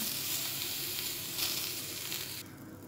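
Aloo paneer kulcha frying on a pan, a close, steady sizzle and crackle of oil throughout that cuts off sharply near the end, with no talking.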